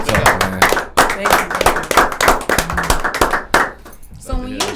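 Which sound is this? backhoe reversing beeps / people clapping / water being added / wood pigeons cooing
people clapping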